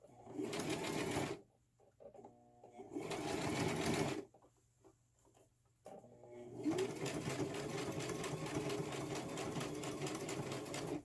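A sewing machine stitching a frontal wig, running in short bursts with pauses between, then a long continuous run of close, steady mechanical whirring and needle rattle.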